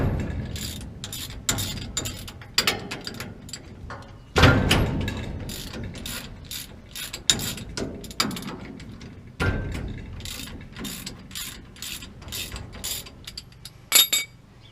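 A hand ratchet works gear bolts loose on a John Deere 7300 combine, with close, loud bursts of rapid pawl clicking separated by short pauses and metallic knocks.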